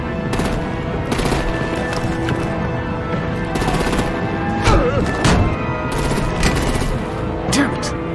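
Gunfire and artillery blasts in the Batman Telltale video game, a steady wash of rapid automatic fire with heavier booms punching through around the middle and near the end, layered with game voices.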